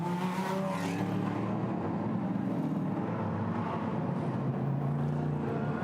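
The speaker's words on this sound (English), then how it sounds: "The cars will now make a complete lap plus half a lap to get to the rolling start" GT America race cars rolling out of pit row at Nashville, a steady mid-distance engine drone with rising and falling tones as several cars pass in succession.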